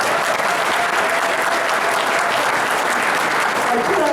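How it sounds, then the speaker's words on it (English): Dense, sustained applause fills a room of attendees at an African American caucus meeting, loud and continuous from start to finish with a faint voice beneath. "Give yourselves a big round of applause."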